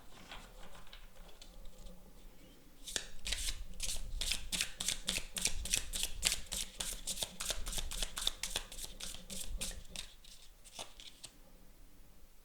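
Tarot cards are shuffled close by in a fast, steady run of crisp riffling flicks lasting several seconds, preceded by a few quieter card handling sounds, with no speech.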